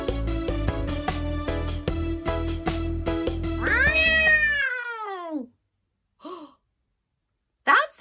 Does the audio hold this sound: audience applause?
no